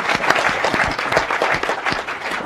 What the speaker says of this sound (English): Let's have a round of applause for all the panelists.